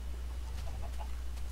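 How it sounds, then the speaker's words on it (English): Chickens in the video game Minecraft make a few quiet, short clucks over a low, steady background hum, with no voices in the clip. "A lot of chickens."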